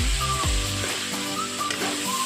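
Broiler chicken with onion, turmeric and salt sizzles and crackles in a hot pan, with a few scraping stirs near the start and a steady frying hiss throughout.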